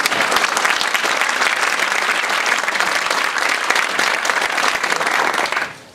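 An audience at a panel event on an aging market bursts into a sustained round of applause, loud and uniform for about five seconds before cutting off abruptly.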